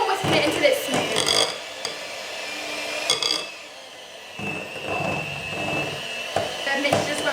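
Electric mixer running on top speed through heavy, thick chocolate loaf cake batter, a strained whirring in uneven bursts that drops away briefly midway, with a person talking over it.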